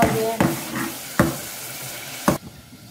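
Daal mash with masala being cooked and stirred in a pan, giving a steady sizzle with three sharp scrapes or clatters of the spoon against the pan.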